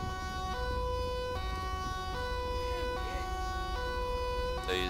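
An ambulance siren wails in GTA 5 with the LSPDFR police mod, a loud steady two-tone cycle repeating several times over road and engine rumble.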